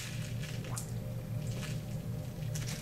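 Hand wetting and kneading a golf-ball-sized lump of soil, soft wet squishing and squelching in a few irregular presses close by over a steady low hum.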